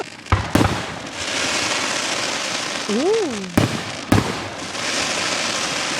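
Fourth of July fireworks at Gettysburg burst in sharp, loud booms, a pair of close blasts near the start and two more later, over a constant crackling crowd din, with a whistling rocket rising midway and a voice exclaiming briefly.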